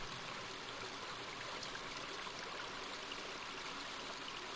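A rushing river flows steadily from a King's Quest V game scene. It is a soft, even wash of water that stays continuous and fairly faint, with no voices.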